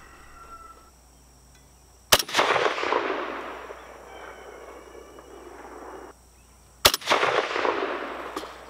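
Two sharp, loud rifle shots from a Norinco SKS, a Chinese copy of a Soviet rifle, fired outdoors several seconds apart, each a crisp crack followed by a long rolling echo that fades slowly.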